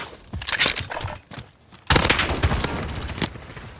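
Rapid gunfire from Modern Warfare Warzone, a sharp close burst of shots, a brief lull, then a louder sustained volley with cracking, glassy impacts.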